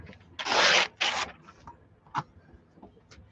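Paper trimmed from the edge of a journal page: two loud, close rasping cutting strokes, then a few faint small scrapes and taps.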